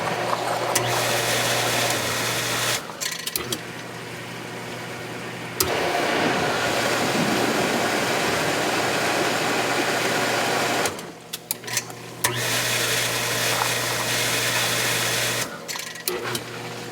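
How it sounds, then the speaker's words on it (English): Hot tub circulation pumps and a jet pump run with a steady mechanical hum, dropping out briefly in a few spots before resuming; a spa heater and GFCI breaker setup, with no talk over it. "You can hear the pumps running. I'm going to turn a jet pump on."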